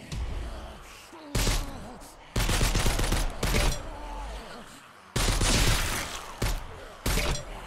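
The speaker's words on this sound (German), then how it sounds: "wir können nochmal mit der AK wahrscheinlich rumsprayen." AK rifle fire in a zombie virtual-reality shooter game comes in several loud, sustained bursts separated by short pauses, with a voice talking in the quieter gaps.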